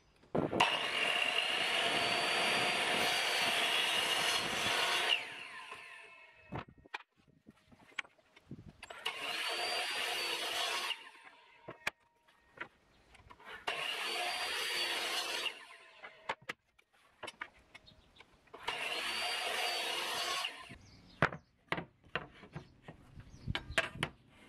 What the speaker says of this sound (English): Then it's over to the miter saw to cut off the factory edge of the plywood